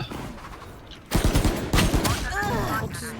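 Gunfire in the video game Valorant comes as a loud burst of rapid shots in the middle, then a voice talks over the game's noise.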